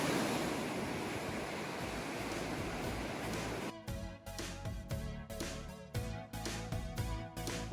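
Ocean waves wash steadily onto a rocky beach, a loud continuous roar of surf and wind that breaks into choppier bursts of crashing water midway, close to the microphone with no talk.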